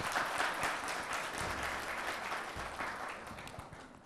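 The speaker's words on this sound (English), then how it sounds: "a wonderful round of applause to Julian for that great introduction" A lecture-hall audience applauds a speaker's introduction at a university Black History Month kickoff event, a dense, steady wash of many clapping hands held at a moderate level throughout.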